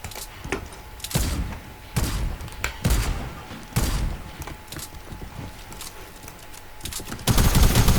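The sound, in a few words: gunfire from a weapon in a video game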